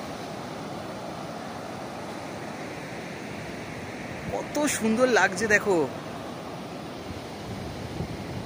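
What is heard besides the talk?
sea waves on the shore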